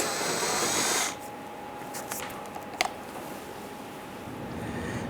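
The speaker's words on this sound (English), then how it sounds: "Let's go ahead and loosen and remove those. Using our 10mm socket," A 10mm socket loosens splash shield screws on a 2005-2010 Chrysler 300, a whirring tool noise that drops off early, followed by a few sharp metallic clicks over a steady background hum.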